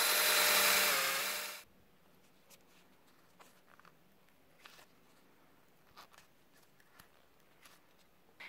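A power drill pre-drilling a wooden stick whirs briefly at the start, winding down after a second or two, then only faint scattered clicks and handling noises.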